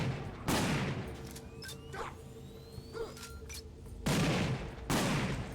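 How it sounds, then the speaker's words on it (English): A shotgun-style handgun fires in the game Sudeki, several loud blasts with a pair near the start and more near the end, separated by quieter game ambience. "I'm just glad this shotgun handgun works."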